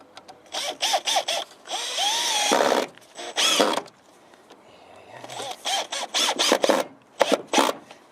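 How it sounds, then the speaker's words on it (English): Power drill whirring in short repeated bursts, close up, with a couple of longer runs driving screws into wooden feather-edge fence rails, separated by brief pauses. "let's feed a couple of screws in there, Now we're just going to drill these in."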